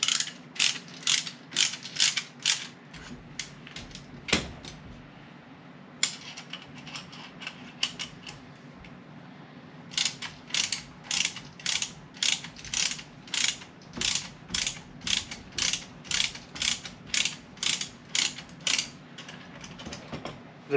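Wrench ratcheting to tighten a BAL X-Chock between travel trailer tires, rapid rhythmic clicking in repeated strokes with a brief pause midway, close and clear.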